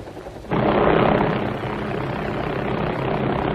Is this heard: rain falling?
no